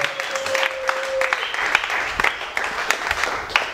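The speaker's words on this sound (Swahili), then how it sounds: "Shangilia Yehova kwa makofi." A church congregation claps steadily for several seconds, dense overlapping hand claps filling the room, with a brief sustained tone early on and no clear talk over it.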